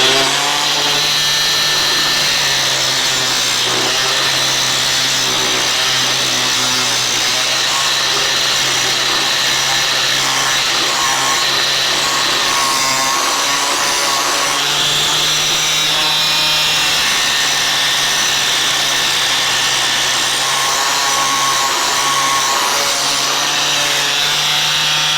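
A blade sharpener grinds a lawnmower blade in a steady, loud, continuous abrasive whir with a constant hum, running alone without pause.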